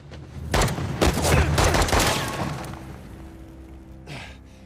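Several loud gunshots in a rapid volley from an action firefight in Uncharted: The Lost Legacy, crowded close together over the first couple of seconds, then fading into quieter game ambience with a brief whoosh near the end.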